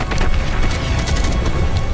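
A bomb explosion in the video game Call of Duty: Modern Warfare Remastered sounds as a loud, dense series of booming blasts mixed with crackling gunfire, filling the whole moment.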